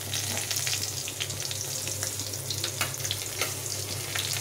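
Dried red chillies frying in hot kachi ghani mustard oil in a heated kadai give a steady, dense close sizzle that crackles evenly throughout, with a low hum underneath.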